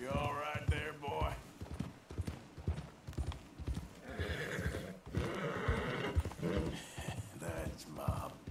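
Horse in Red Dead Redemption 2 whinnies and snorts while its hooves clip-clop steadily, with someone speaking calmly over the animal sounds throughout.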